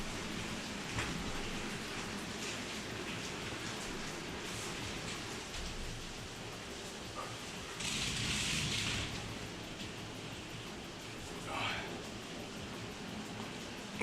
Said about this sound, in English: Yeah, it's raining now. That's what you guys hear.